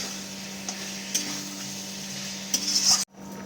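Chicken curry being stirred in a pan with spices, a steady sizzle with scraping and clinking strokes that grow louder, then a sudden cut to quieter frying.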